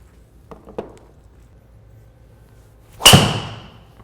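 A golf driver, either a Callaway Epic Flash SZ or a Mizuno ST190, strikes a ball in one sharp, loud impact that rings briefly and decays, preceded by a couple of faint knocks.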